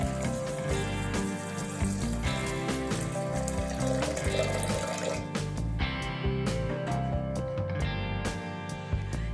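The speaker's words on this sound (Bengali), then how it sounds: "এবার দিয়ে দিচ্ছি জল।" Water pours into a pressure cooker holding peas with bay leaves, a steady splashing, gurgling stream under a continuous loud wash of sound, no talk.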